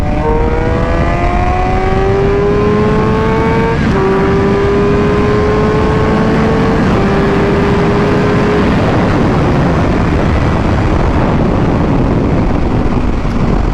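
A Suzuki GSX-R 750 sport motorcycle revs loudly past, its engine climbing through gears in rising whines that step down with each shift and then fade into the distance, alone and close.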